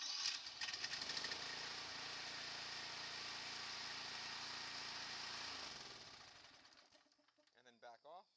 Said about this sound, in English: So you can see just how easy it was to start the mower just by turning the key here.